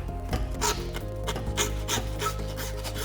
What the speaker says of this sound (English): A bone saw is really handy for this.